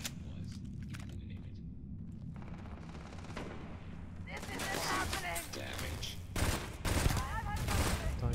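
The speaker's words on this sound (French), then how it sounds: "Là, ça tire vite, hein" Rapid weapon fire in Starfield starts as scattered sharp shots, then turns into loud, dense bursts of fast gunfire through the second half, with a person talking alongside.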